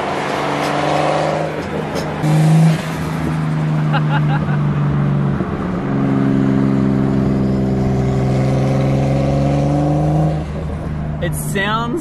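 Nissan R33 Skyline engine with a straight pipe exhaust, a steady deep droning cruise with strong low harmonics, heard from inside the car over a long highway run, with people talking throughout.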